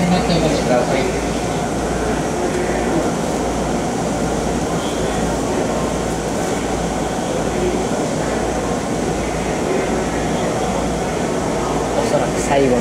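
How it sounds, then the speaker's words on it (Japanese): A Keisei 1033F electric train sits at Takasago station before departure, its cab filled with a steady loud hum of motors and air conditioning while a voice talks over it. "この電車は24発快速サテライトでございます。 まもなく発車いたします。"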